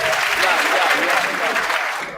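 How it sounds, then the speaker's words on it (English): A crowd claps enthusiastically, a dense burst of applause that fades slightly at the end. "Clap for yourself."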